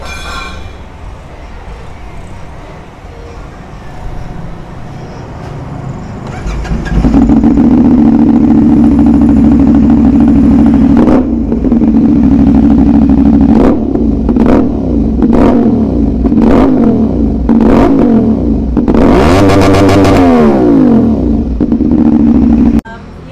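Red 450SR motorcycle fitted with an Austin Racing exhaust starts up and idles loudly nearby, then gives a string of sharp throttle blips and one longer high rev before settling back to a steady rumble.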